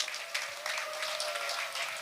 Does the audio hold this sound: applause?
yes